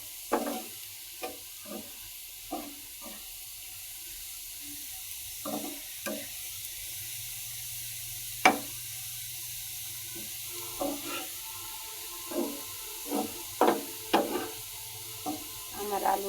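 Potatoes frying in a pan, being stirred with repeated scraping clinks and short bursts of sizzle over a steady low hiss, irregular strokes spread through, close and moderately loud, with no one talking.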